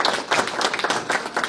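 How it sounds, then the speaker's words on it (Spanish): A church congregation gives a brief burst of loud, dense clapping, the crowd applause rising and falling in quick uneven waves with no voices over it. "denle un aplauso fuerte"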